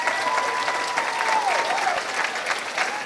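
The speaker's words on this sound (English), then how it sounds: "And now, a round of applause for these people." Audience at a cancer program's Celebration of Life luncheon applauds steadily for about three seconds, a dense, even wash of clapping from a large crowd filling the room.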